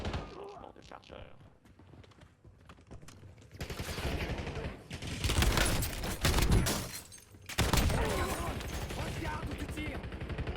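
Gunfire in the battle royale video game Warzone, with bursts of loud automatic fire and rapid shots, quieter at first and then dense and heavy, breaking off briefly and returning, mixed with faint game speech.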